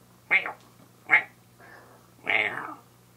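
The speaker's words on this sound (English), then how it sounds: "You meow like an old lady." A cat meows three times, fairly soft and close, with short gaps between the cries and a longer, drawn-out final meow.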